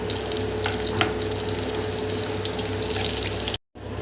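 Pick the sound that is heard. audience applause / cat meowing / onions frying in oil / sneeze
onions frying in oil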